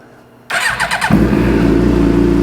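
A Suzuki GSX-R 750/600 motorcycle engine cranks briefly from silence after a transmission replacement and motor install, then catches and settles into a steady, loud idle close by.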